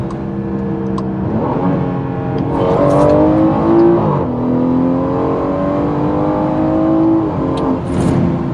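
A rear-wheel-drive BMW 340i in Sport mode accelerates hard, its engine note climbing through rising pitch sweeps with short breaks at gear changes, loud and close from inside the car.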